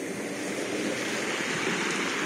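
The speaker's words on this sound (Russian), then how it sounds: "смотрите, какие волны у нас" Stormy morning sea waves roll as a dense, continuous wash of surf noise, loud and steady throughout with no voices.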